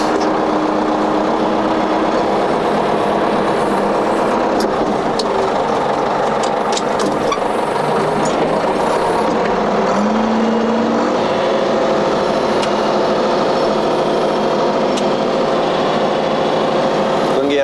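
A Ford 7610 farm tractor's diesel engine runs steadily and loudly throughout, a continuous close rumble with a faint shift in pitch partway through.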